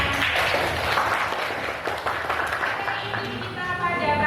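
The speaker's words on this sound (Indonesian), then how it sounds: "terima kasih beri tepuk tangan" Applause from an audience at a classroom teaching session, a dense patter of clapping running steadily throughout with a voice speaking over it.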